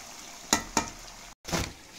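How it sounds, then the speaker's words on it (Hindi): French fries deep frying in hot oil, a steady bubbling sizzle broken by a few sharp stirring or scraping clatters and a brief gap, close and moderately loud with no talking. "जी मैं सारी फ्राई कर रहा हूँ।"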